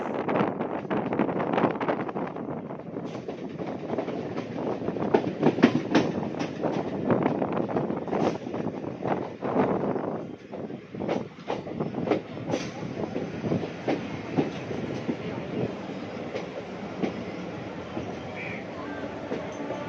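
A local train runs from Tambaram to Chennai, heard from on board with a steady rumble, clickety-clack of the wheels, brief squeals and wind buffeting across a long, continuous stretch.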